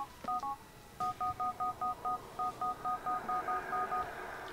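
Phone dialing tones in a video game, a rapid series of evenly spaced touch-tone beeps, clear and fairly close, with steady game background noise and no talk.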